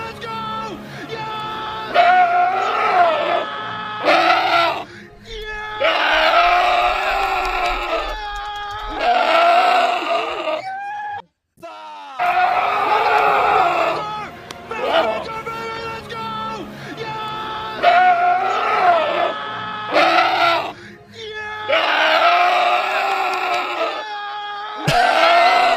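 A goat screaming as a meme sound effect: loud, drawn-out bleating cries repeat in long bursts with brief gaps, filling the whole stretch with harsh, nasal wails.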